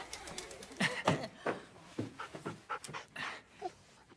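Mixed-breed dog panting close by, quick rhythmic breathy huffs repeating steadily for several seconds, with no talk over it.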